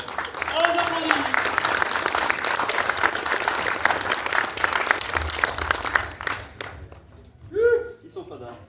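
An audience applauds at an improv theatre show by Les Mutins in Ambert. The dense, steady clapping fills the room for about six seconds, then thins and fades as a voice comes in near the end.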